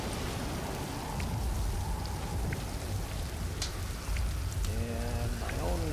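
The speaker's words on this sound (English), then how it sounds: "So because it's raining" Rain falls in the survival video game Stranded Deep, a steady dense hiss of drops on surfaces, heard close and constant, with a short rising tonal sweep near the end.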